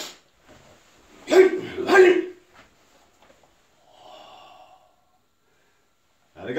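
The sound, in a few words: martial arts exhale through the nose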